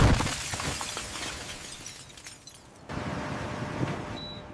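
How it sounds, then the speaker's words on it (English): Explosive charges shatter the glass canopy of an F-35 stealth fighter, a loud burst of breaking-glass noise that fades into a lower rumble before a second, sustained crackling wash with a brief high tone near the end. "Explosives in the glass shatter the canopy before the pilot ejects."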